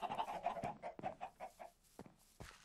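Chickens clucking in Minecraft on a Nintendo Switch automatic chicken farm, a quick run of close, rhythmic clucks that thin out into a few scattered ones, with no talking.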